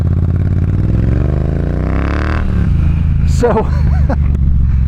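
A Triumph Bonneville T120 motorcycle engine with a British Racing X-pipe and shorty pipes runs loud and close, revving up in a rising sweep, then dropping back to a throaty idle with some mechanical clatter, while someone speaks briefly.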